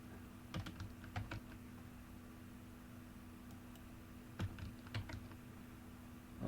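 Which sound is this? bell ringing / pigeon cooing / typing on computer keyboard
typing on computer keyboard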